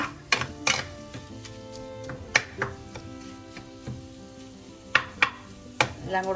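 Masala with tomatoes and salt sautéed in a pan for a Kora fish curry, faint sizzle under repeated sharp clanks and scrapes of a spoon against the pan, close and irregular.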